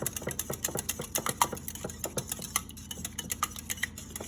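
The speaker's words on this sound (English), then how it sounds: "We are going to whisk them together." A whisk beating eggs in a bowl for a chocolate sheet cake batter, giving quick, rhythmic clicking taps that repeat steadily and close by, fairly quiet with no talk.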